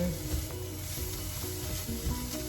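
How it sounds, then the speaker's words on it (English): Badia taco seasoning being stirred into a sizzling skillet mixture, with a steady loud frying crackle and a few soft scraping stir strokes throughout. "I'm going to just give that a good mix"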